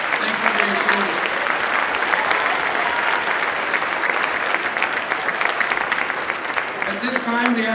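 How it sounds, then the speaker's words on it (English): Sustained audience applause fills a hall of fame ceremony, dense and steady throughout, with faint voices and cheers mixed in near the start and end. "Let's give them a round of applause."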